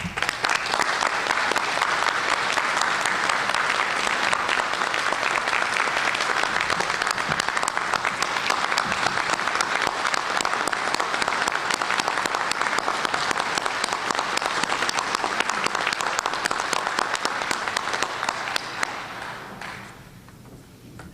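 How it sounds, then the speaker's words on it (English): Sustained applause from an audience honoring veterans at a Baldwin County Veterans Appreciation Day ceremony, steady and dense for about nineteen seconds before tapering off at the end. "Please give these gentlemen a round of applause."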